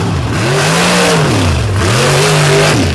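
A mud racing truck with a 572 cubic inch alcohol-injected Mopar wedge engine on nitrous revs hard and close, its pitch rising and falling in repeated swells with no talk.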